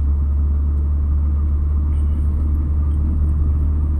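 A car drives along a road with a loud, steady low engine drone and road rumble from inside the cabin, with no pauses.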